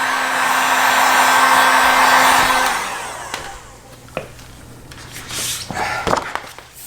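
A heat gun roars steadily while warming vinyl wrap on a Ducati Panigale 1299S in a cold garage, then shuts off after about three seconds, leaving scattered light rustles and taps of handling.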